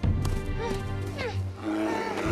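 Two cartoon bear cubs growling and roaring in an animated series, a steady run of rough, voiced growls lasting a couple of seconds against a busy soundtrack.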